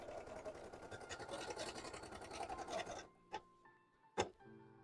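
An embroidery sewing machine stitching at a rapid, even, buzzing rhythm for about three seconds, then stopping, followed by a couple of sharp isolated clicks and a faint lingering tone.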